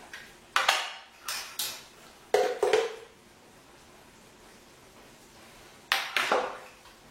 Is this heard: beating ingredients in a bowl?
yes